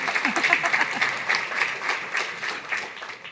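Audience members at a City Club fireside chat break into applause, a brief, moderately loud round of clapping with some voices mixed in underneath.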